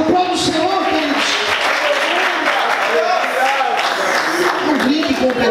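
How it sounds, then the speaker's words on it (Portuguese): Applause from a church congregation fills the space continuously, dense clapping mixed with crowd murmur and sustained tones beneath. "Aplaude o Senhor, queridos."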